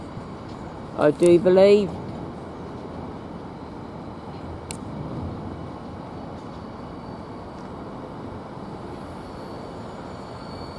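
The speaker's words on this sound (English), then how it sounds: "we've got another train coming through here, which is, I do believe, the Thameslink" A Thameslink train passing through Peterborough station, heard as a steady, low rumble of rolling stock that continues throughout, with someone briefly speaking near the start.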